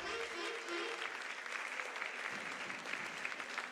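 Steady applause from an audience at a regional final ceremony in Panama, dense clapping filling the whole stretch without a break.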